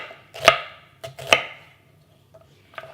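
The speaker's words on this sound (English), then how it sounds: "I'm going to go ahead and just chop up my purple onion." A knife chopping a purple onion on a board gives three or four sharp, close thuds spaced about half a second apart, followed by a faint tap.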